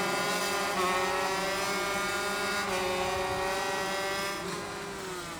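A 500cc two-stroke Grand Prix racing motorcycle at Brno howls loud and close at high revs, one sustained engine note that holds steady and then eases slightly near the end, with no talk over it.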